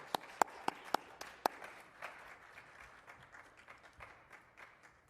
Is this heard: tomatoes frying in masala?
no